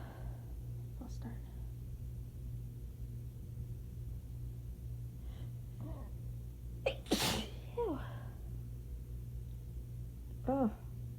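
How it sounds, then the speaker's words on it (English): A sharp, loud sneeze from a person in a sneezing fit after shower water went up the nose, with quiet breathy sighs and soft vocal sounds before and after over a low steady hum. "Sneezing my head off."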